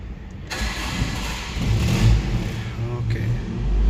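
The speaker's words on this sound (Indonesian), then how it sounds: "kita dengerin suara mesin legendaris dari si Toyota Kijang ini" An old Toyota Kijang's engine cranks and catches, then settles into a rough, rising idle with a low, throaty rumble heard close up from inside the car.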